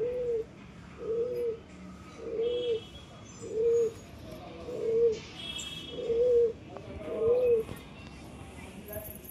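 Pigeons coo in a slow, regular series of about seven soft, rounded calls, close by, with faint chirps and outdoor ambience between them.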